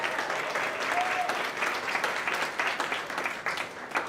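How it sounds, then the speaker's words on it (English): An outdoor crowd at an art exhibit unveiling on Connecticut Avenue applauds steadily with dense, sustained clapping filling the space for the full duration. "Give them a big round of applause."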